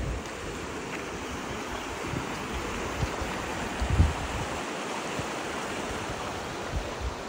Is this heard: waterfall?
yes